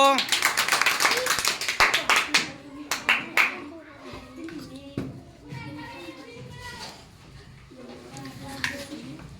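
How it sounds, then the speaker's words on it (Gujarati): Hands clap in a quick burst of applause for a contestant during a balloon-and-cup game. The clapping fades after a few seconds into children's chatter and light tapping. "જોરદાર તાળીઓ"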